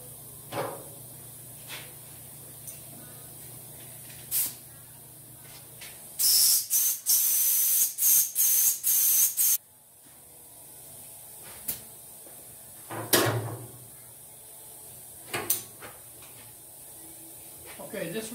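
A paint spray gun set to 25 psi air sprays paint thinned with reducer in a loud, hissing burst of several seconds, preceded and followed by quiet handling knocks and clicks.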